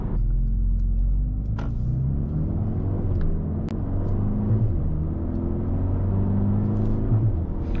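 Steady low road rumble and tire roar from a 2024 facelift Mercedes-AMG A35 4MATIC heard from inside the cabin while driving, a continuous even drone with faint engine hum and no talking.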